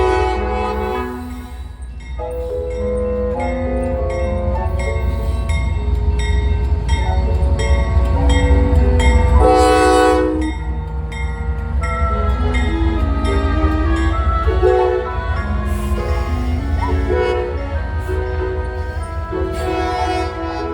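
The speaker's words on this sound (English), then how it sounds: "I saw headlights of an oncoming train" A Norfolk Southern freight train approaches with an ST-70 ICC as its second locomotive, sounding long, loud chord-horn blasts over a steady, heavy rail rumble that builds and holds close by.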